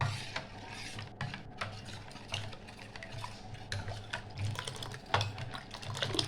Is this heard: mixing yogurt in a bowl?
yes